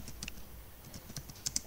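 Quiet computer keyboard typing with irregular clusters of light key clicks, a few sharper taps near the end, close and alone with no voices.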